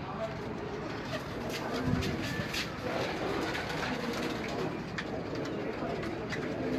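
Soft pigeon cooing under a constant hum of outdoor background noise, with voices talking in the mix.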